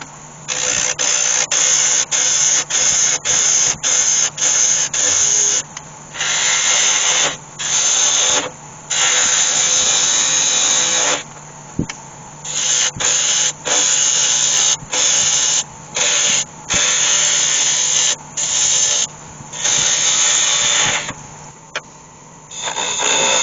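A wood lathe hollows out a wooden honey pot with a loud, steady, harsh scraping whirr. The cutting comes in long runs broken by many brief pauses, with no talking.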